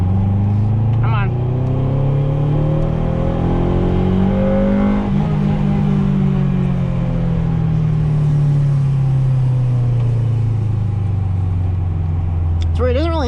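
A 1995 Acura Integra GSR engine revs up and back down inside the car, its intake roar rising in pitch and then falling in one long sweep, loud and continuous with a faint voice in the background.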